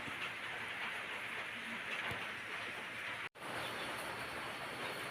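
Steady rain keeps falling around a midday cooking session of bamboo-shoot curry with puak mushrooms, a dense, even hiss that never lets up, with no voices over it.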